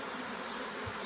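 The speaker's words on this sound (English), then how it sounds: "we shook a whole bunch of nurse bees in here" Honey bees, a large batch of nurse bees shaken into a box, hum in a dense, steady drone that fills the whole moment without a break.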